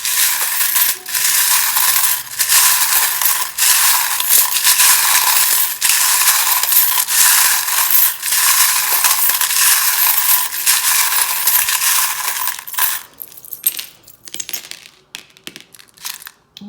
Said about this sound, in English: these are mainly metal charms. They can be quite loud when I shuffle them.